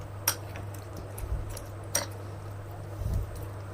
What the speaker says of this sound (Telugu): ఈ పోపును వేసి ఇలా బాగా కలుపుకోవాలి